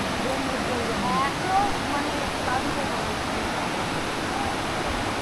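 Water pours down the Tirathgarh waterfall in a dense, steady roar of rushing noise that fills the scene without letting up.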